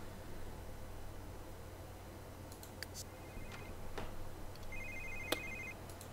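A mobile phone rings inside The Sims 3, a run of short electronic tones and chirps over a steady low game background hum, fairly quiet and with no talk over it.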